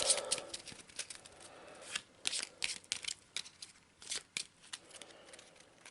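Arkham Horror cards are shuffled quickly by hand, a close, crisp flurry of riffling and slapping bursts, fairly quiet and with no talking.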